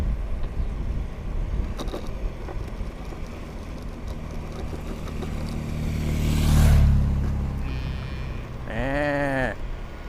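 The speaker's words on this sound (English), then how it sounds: "what is the go with traffic today?" Traffic on a mountain road: a vehicle approaches and passes with a swelling engine roar, then another revs and accelerates away, over steady outdoor rumble and occasional distant animal calls.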